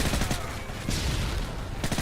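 UMP submachine gun fire in Call of Duty: Modern Warfare II multiplayer, a few rapid bursts of loud gunshots with dense low rumble throughout.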